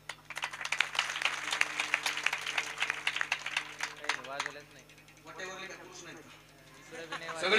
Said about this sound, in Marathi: यानंतर सगळे पुरुष टाळ्या वाजवतील महिलांसाठी